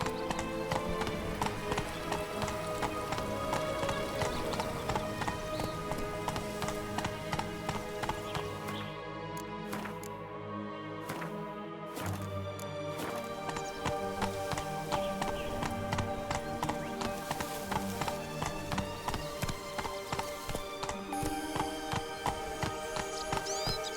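The horse Roach galloping in The Witcher 3, a steady, close rhythm of hoofbeats with clip-clop thuds and occasional whinnies, briefly easing before picking up again.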